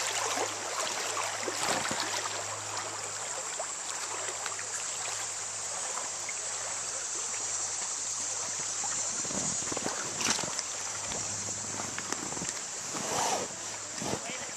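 Rushing water from a set of rapids on the Cacapon River heard while floating downstream, a steady broad wash with splashes and bumps, wind noise on the microphone, and people talking and exclaiming over it.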